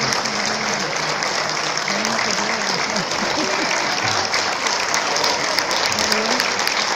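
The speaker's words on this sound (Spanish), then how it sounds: "Un aplauso, aplauso, aplauso, aplauso" Audience applause after a dance group's performance, a steady dense wash of clapping from a crowd that holds evenly throughout, with faint voices and cheers mixed underneath.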